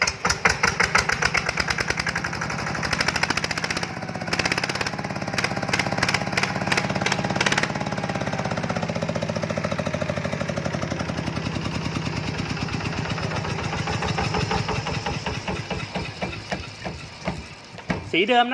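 A Kubota RT12 diesel tractor engine revs up into rapid, rough chugging, loud and close, holding a fast throbbing pulse throughout.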